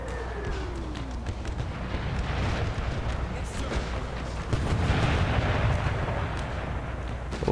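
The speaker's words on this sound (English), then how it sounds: "the amount of cannon I have pouring down on them right now" Cannon artillery fire from an American Civil War strategy game battle rumbles in dense, overlapping booms and crackling musketry, a continuous loud barrage with no talking.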